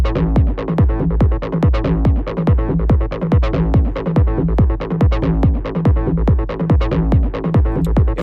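A full techno drum groove pounds along with punchy kicks and crisp hits in a tight, steady, repeating pattern, loud and continuous with no voice over it.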